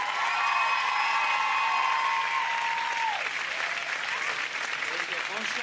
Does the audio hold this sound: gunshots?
no